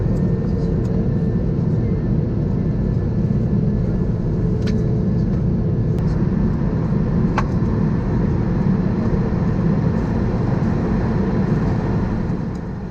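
An Air Canada Airbus A220 taxis to the runway after de-icing, heard from inside the cabin as a constant loud engine rumble and hum with a few faint clicks.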